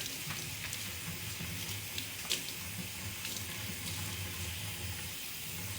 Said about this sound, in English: I'm just going to run it under water.